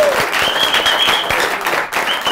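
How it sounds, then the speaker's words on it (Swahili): Audience applause for Wanguku, a Nyeri governor candidate, on a televised show: a dense, loud burst of clapping from a crowd, steady throughout with no talk over it. "Wapi makofi ya Wanguku?"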